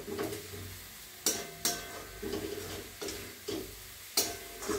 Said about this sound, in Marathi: गॅस कमी केलेला आहे, सगळं हलवून घ्यायचं